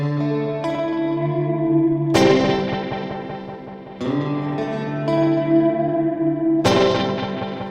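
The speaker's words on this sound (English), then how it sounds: "It can feel like delay injected with other effects." An Old Blood Noise Bathing pedal throws delay repeats with a phaser-like sweep across guitar chords, strummed anew every couple of seconds and left to swirl with echo and reverb, loud and without any voices.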